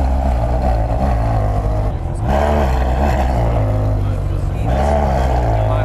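A Ferrari 599 SA Aperta with a GTO engine, at a supercar gathering, gives a loud, close V12 drone that rises and falls through repeated revs, with a voice talking over it.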